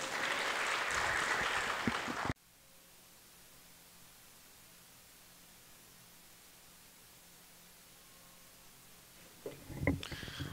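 A theatre audience at a national choir gathering at Teatro Escola Basileu França in Goiânia gives a dense burst of applause for about two seconds, then it cuts off into near silence, with faint sounds returning at the end.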